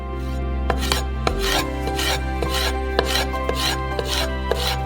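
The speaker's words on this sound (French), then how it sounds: "Et on les coupe en petites bandes." A knife cuts peeled peppers into thin strips on a board, giving a run of roughly a dozen close, crisp chops at a fairly even rhythm over a low background hum, with no talk.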